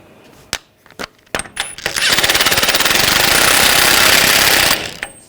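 Spindle nut being tightened on a 2014-2018 GMC Sierra 1500 front hub, heard as a few sharp clicks and clanks, then a loud, fast, rattling power-tool burst lasting about three seconds before it stops.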